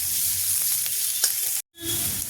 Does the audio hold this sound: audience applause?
no